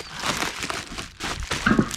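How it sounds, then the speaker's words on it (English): Paper crinkles and rustles in uneven bursts, close and fairly loud, with a brief quieter pause partway through. "sorry if the noise of the wrapping paper is taking over"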